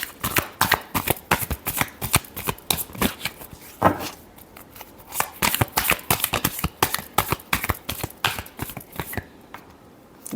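Tarot cards being shuffled in a dense run of crisp riffling slaps and flicks, close and fairly loud, with brief pauses near the middle and at the end.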